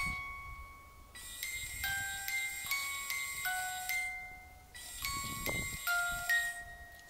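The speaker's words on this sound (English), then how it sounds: "if anything walks in front or goes in front of the sensor on this PMB music box, it sounds like this" A PMB music box ghost-hunting sensor plays a soft, tinkling melody of clear chimed notes in two short phrases, quiet and close in an otherwise still tomb setting.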